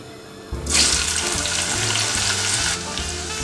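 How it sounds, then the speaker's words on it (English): Chopped spring onion and red onion hit hot red oil and burst into a loud, bright sizzle that holds steady for a few seconds before easing off, with no talk. "I chop them and add them in the hot red oil"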